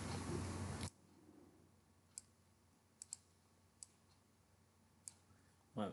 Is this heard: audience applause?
no